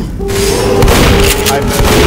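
Grenade blast in the Left 4 Dead video game, a heavy boom rolling out under excited player voices, with a steady tone and scattered game noise continuing through the short stretch.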